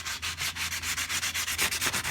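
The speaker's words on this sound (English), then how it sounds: "I start sanding it with just regular 220 grit sandpaper" Guitar fret ends rubbed with 220 grit sandpaper on a cigar box guitar, a steady run of short rhythmic back-and-forth sanding strokes, close and clear with no talk.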